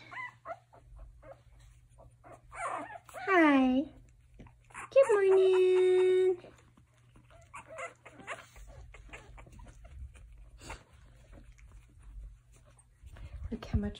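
Puppies whimper and give a drawn-out howl-like whine in a quiet room, loudest around the middle, with a person talking softly around them.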